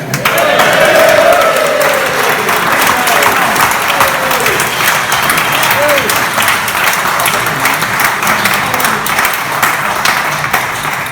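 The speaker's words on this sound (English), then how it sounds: "I'd just like to raise a cheer for Dean" Audience at a live pub-rock band event at the Hammersmith venue applauding and cheering loudly, a steady wash of clapping with whoops and shouts running throughout.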